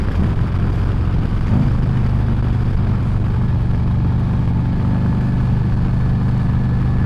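A 2024 Harley-Davidson Road Glide fitted with a Screamin' Eagle 131 Stage 4 engine rides along in sport mode, its deep, steady low engine rumble and road noise droning loudly and continuously throughout.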